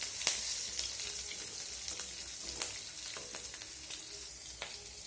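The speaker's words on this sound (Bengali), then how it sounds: "জিরা আর কাঁচা লঙ্কাটা হালকা করে ভেজে নেব।" Cumin seeds and chopped green chili fry in oil for a potato, onion and egg dish, giving a steady close sizzle with light crackles and occasional stirring scrapes, no voices.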